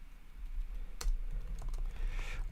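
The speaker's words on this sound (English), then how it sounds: "So the reason I type everything and try to avoid copying stuff is I'm practicing my typing." Someone types on a computer keyboard at a desk while coding, with steady, fairly soft keystrokes close by and one sharper tap in the middle, no voice over it.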